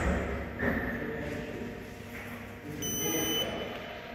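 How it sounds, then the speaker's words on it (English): A short high electronic beep from a Haas TL1 CNC lathe sounds near the end over a low background hum. "Okay, now it's beeped, it's happy."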